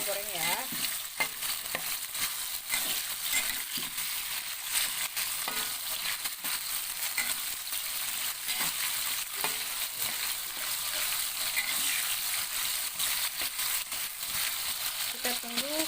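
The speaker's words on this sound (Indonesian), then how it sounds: "jengkolnya udah kita goreng ya" Jengkol beans fry in hot oil in a pan for Betawi-style fried jengkol, a steady crackling sizzle with occasional stirring scrapes, moderately close and continuous.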